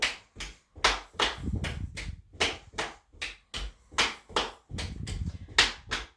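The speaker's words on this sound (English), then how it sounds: "we're just going to clap our legs and clap in front of us" Rhythmic hand claps on thighs and then in front of the body during a seated chair exercise, a steady alternating pattern of about a dozen close, crisp slaps and claps with no talking.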